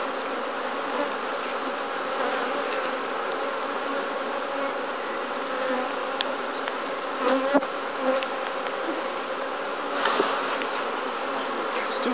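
Honeybees swarm around an open hive during an inspection, producing a dense, steady, close buzzing that fills the whole stretch, with a few brief louder surges and light handling noises and no talk.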